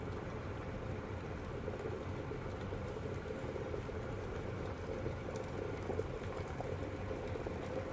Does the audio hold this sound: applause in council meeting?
no